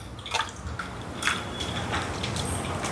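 Raw prawns being hand-mixed with salt and chilli powder make wet, irregular squishing and dripping sounds that are close and moderately loud, without talk.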